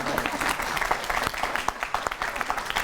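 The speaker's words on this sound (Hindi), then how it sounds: "तालियां बजा लो यार" A crowd at a public gathering breaks into applause, dense clapping that rises and falls with a few sharper claps, close and lively, mixed with murmuring voices.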